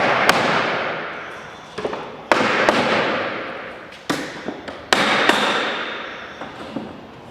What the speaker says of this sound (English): pop the head off of this barrel.